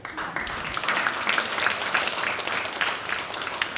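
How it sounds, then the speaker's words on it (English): An audience at an evening performance by a pianist claps to welcome his wife, a short burst of moderately loud, dense applause lasting a few seconds. "Round of applause for my wife here."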